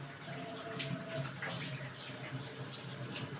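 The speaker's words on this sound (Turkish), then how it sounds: "Ben elimi yıkayayım." Water runs steadily from a tap as hands are washed under it, a continuous soft splashing hiss, fairly quiet and close, with faint household sounds in the background.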